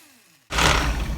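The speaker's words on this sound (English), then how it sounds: "we will puree it in the blender. I'm going to use the liquefy setting." A blender on its liquefy setting pureeing fermented peach peppers for hot sauce kicks in abruptly after near silence, jumping straight to a loud, steady, close whir.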